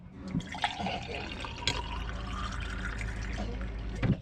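Clear tap water pumped from an RV tank pours into a champagne glass, a close trickling and dripping splash that rises and gurgles as the glass fills, with a person talking over it.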